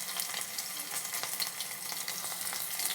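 Garlic frying in hot oil for tomato rasam gives a constant close sizzle and crackle with faint stirring, steady throughout and without speech.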